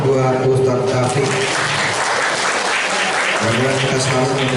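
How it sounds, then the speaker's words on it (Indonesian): An audience at a character-education training session claps steadily for Ustaz Taufik, the applause sandwiched between stretches of a speaker's voice at the start and end. "Tepuk tangan buat Ustaz Taufik."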